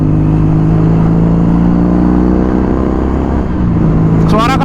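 A Kawasaki retro-styled motorcycle fitted with a locally made DBK exhaust idles and runs loud and close, a steady deep rumble that rises slightly in pitch near the end.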